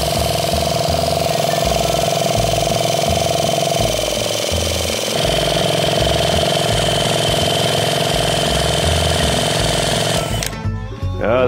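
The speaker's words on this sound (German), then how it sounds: "Ich tue jetzt nur mal schnell ein bisschen mit dem Akku durchdrehen." A Simson moped engine is spun over with a battery-powered tool. A loud, steady mechanical whirring and chugging runs for about ten seconds, then cuts off abruptly.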